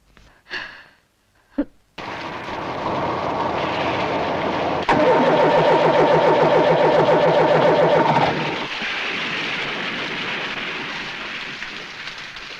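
A car engine cranks and fails to start in an action film scene, giving a loud, whirring starter rhythm that keeps turning without catching, then drops to a steady background hiss.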